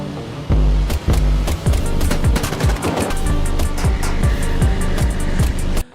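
Gunfire in a film action scene during a truck robbery and chase, rapid bursts of loud, close shots cracking in quick succession over a rumbling soundtrack.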